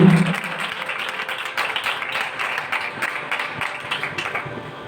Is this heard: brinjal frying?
no